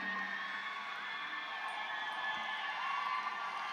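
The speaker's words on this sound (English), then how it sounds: "I know y'all are cheering for Yasmin" An audience cheers for a graduate at an annual Black graduation and Kente ceremony, a sustained crowd roar of shouts and whoops held at a steady level.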